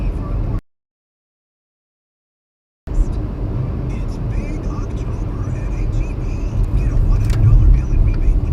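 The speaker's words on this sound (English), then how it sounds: "That's a cool car, that purple car." A purple car drives past on a town street in St. Clairsville, its steady road and engine rumble holding near and fairly loud, after a brief silent break.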